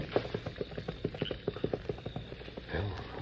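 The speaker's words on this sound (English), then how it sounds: "whoever it was is getting away on horseback" Horse hooves clip-clop in a steady, fairly close rhythm as a rider gets away on horseback along a trail, with a brief rumble near the end.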